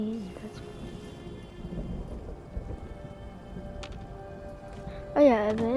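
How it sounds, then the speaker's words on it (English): Steady rain and rumbling thunder in the Fallout 4 game world form a constant wash, with a brief tonal sound near the end. "Oh yeah, the rain."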